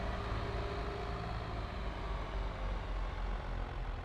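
A tractor engine in a farming video game drones steadily at a constant, moderate level, a continuous low mechanical hum with no pauses or changes in pitch.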